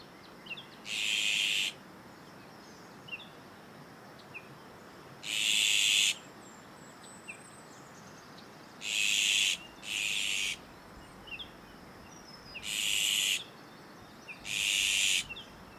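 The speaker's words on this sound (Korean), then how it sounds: "지금 이 순간만큼은 새들의 노랫소리밖에 안 들립니다." Birds call around a cafe surrounded by green forest in Sejong, heard as six separate short, bright bursts spaced a few seconds apart over a quiet outdoor hush, fairly distant and without any talk.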